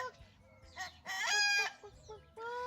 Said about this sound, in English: He is a grand cockerel,